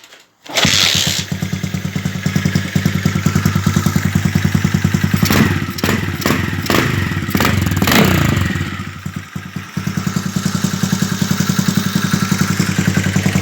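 A CG motorcycle engine with a CBX200 piston is started by hand, catches within a second and runs with a loud, steady, close clattering idle, briefly revving in the middle, with no talking.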